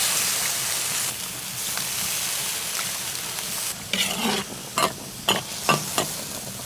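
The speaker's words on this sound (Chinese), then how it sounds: "猪肉炖熟了，下入粉条" Wide glass noodles go into simmering pork stew, fatty and lean, and are stirred. A soft bubbling simmer gives way to a series of sharp, close scraping stir strokes near the end.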